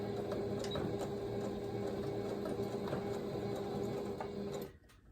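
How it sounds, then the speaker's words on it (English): A sewing machine stitches a 3/8 seam allowance around the curved base of a quilted fabric basket, running as a steady, close hum for about four and a half seconds before stopping abruptly. "I'm going to sew the 3/8 seam allowance and just take my time going around the whole curve."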